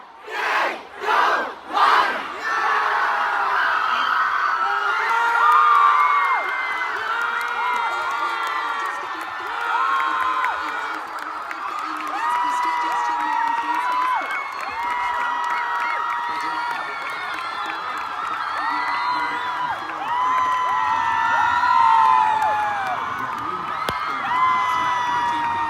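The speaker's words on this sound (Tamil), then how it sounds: "அந்த ராக்கெட் அப்படி லான்ச் ஆனதுமே அவங்க எழுப்பின கரகோஷங்கள் ஆரவாரம் இருக்கு" A large crowd roars and cheers continuously at the Chandrayaan-3 rocket launch, opening with a few rhythmic chanted bursts, then a sustained wall of whoops, shouts and excited voices.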